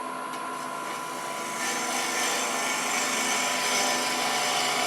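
Freshly sharpened turning tool cutting into crepe myrtle wood spinning on a lathe, a continuous whirring, grinding drone with a steady motor hum that grows louder about halfway through.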